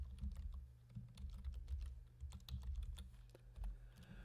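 Rapid, irregular clicks of typing on a computer keyboard, close and steady over a low background hum, with no voices.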